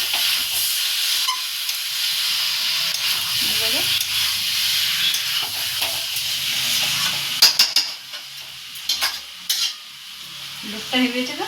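Spiced banana-flower curry being sautéed in a home kitchen pan, with steady loud sizzling and hissing throughout and occasional clinks of stirring near the end, alongside faint background voices.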